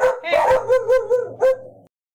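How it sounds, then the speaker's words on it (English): A neighborhood dog gives a rapid series of four or five close, loud barks and yips in quick succession, with no talk over them, ending abruptly. "There's a dog in the neighborhood that's barking"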